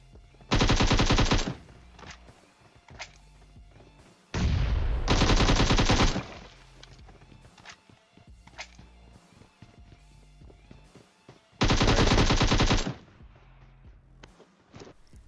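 Automatic gunfire in the PUBG Mobile video game, three sustained loud bursts of rapid fire separated by quieter stretches with scattered single shots and movement sounds.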